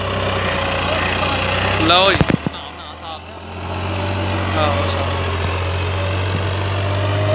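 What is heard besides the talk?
tractor engine running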